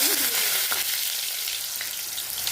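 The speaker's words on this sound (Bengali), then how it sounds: "আলুগুলোকে একটু সুন্দর করে লাল লাল করে ভেজে নেব" Small diced potato pieces fry in mustard oil until reddish-brown, giving a steady, close, dense sizzle that holds at an even level throughout, with no voices.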